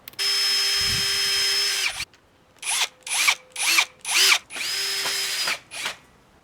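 A power drill whirs in bursts while drilling pilot holes in timber: one long run, several short pulsed triggers, then another longer spin, loud and close.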